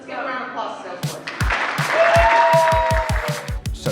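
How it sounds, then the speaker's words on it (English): Scattered audience applause at a live hacking event, with sharp individual claps and thumps rising over background chatter and music. "Let's give a round of applause to Salesforce."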